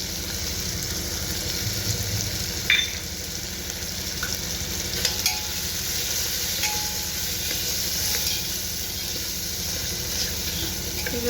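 Masala and onion frying in a pan for mixed dal khichdi, a steady close sizzle with occasional stirring clinks and scrapes, no talking.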